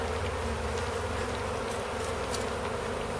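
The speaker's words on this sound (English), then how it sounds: "So they stop flying around" A house-caught honey bee swarm buzzes in a steady, dense drone close by, with a few faint brief clicks over the continuous hum.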